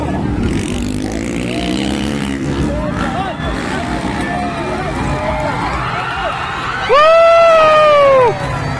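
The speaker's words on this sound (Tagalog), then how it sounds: "Sigawan lahat." Crowd shouting and cheering at a motocross race in Lantapan, with a commentator talking throughout; a loud, sustained whoop or siren-like rising cry bursts in near the end over the steady roar.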